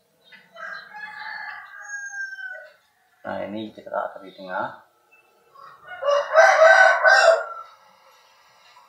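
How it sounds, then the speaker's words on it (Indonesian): Roosters crow in the background: a long crow at first, then a louder, nearer crow toward the end, with someone talking in between. "Banyak ayam ya guys."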